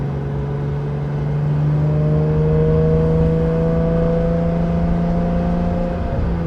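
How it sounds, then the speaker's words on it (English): A 992 Porsche GT3 Touring with a full Dundon titanium exhaust cruising slowly in first gear, a loud steady engine drone with a fluttery exhaust note, holding close and even throughout. "I love this kind of flutter you get, this like when you're cruising through a parking lot in first gear or something."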